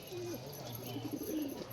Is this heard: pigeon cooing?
yes